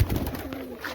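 Pigeons at a racing pigeon loft give a short, close, low cooing under a soft background hum, with no talking.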